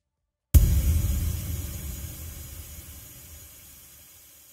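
A long MTurboReverb tail with the dampening low parameter adjusted, a sudden burst of broadband wash that decays smoothly over several seconds, with no voices.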